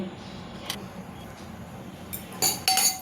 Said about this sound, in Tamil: இப்போ தோசைக்கல்லை வச்சுட்டோம்.